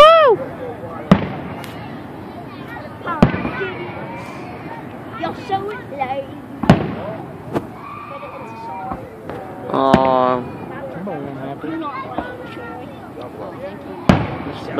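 Fourth of July fireworks bursting over Chillicothe: a handful of sharp, loud bangs scattered through the stretch, with crowd chatter and voices talking in between.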